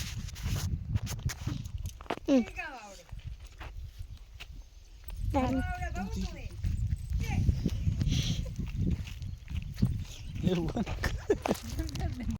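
A mare's hooves clip-clop in a series of dull thuds mixed with intermittent talking voices nearby.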